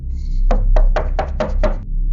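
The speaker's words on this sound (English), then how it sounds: "Then the knocking moved." Sharp knocking for a horror story: six distinct, evenly spaced raps on wood, close and loud against near silence, each with a short hollow thud.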